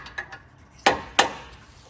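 A brass punch tapped with a hammer while installing a lift kit on a 2023 6.7 Powerstroke truck: a few light taps, then two sharp metallic strikes close up.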